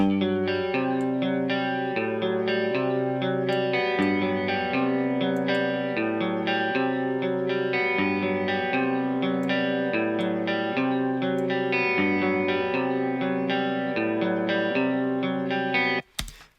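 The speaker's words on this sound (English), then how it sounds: "I'm going to throw on a chorus pedal." A sustained, shimmering clean electric guitar through a chorus pedal, playing slow chords with a wavering, lush modulated effect, continuous and up close, ending abruptly.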